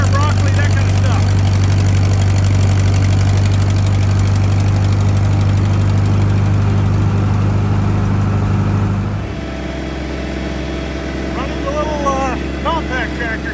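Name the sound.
compact tractor engine idling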